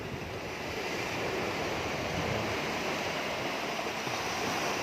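Sea surf rolls onto the shore at Barletta, Italy, as a steady, close, hissing wash with low wind rumble against the microphone, continuous and unbroken, with no talk.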